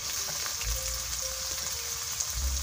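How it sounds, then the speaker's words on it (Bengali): Chopped onions hit hot mustard oil in a pan, giving a steady, close sizzle and crackle with faint stirring and no voices. "তেল গরম হয়ে গেছে, এখন আমি দিয়ে দিচ্ছি পেঁয়াজ কুচি"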